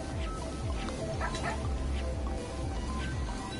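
Dog in a video game, a player's companion, giving repeated short barks and yips over game background noise and music, fairly close and steady throughout.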